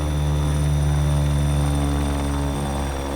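A Bell 412 helicopter comes in to land in a flight simulator game, its rotor and turbine drone loud, steady and continuous throughout.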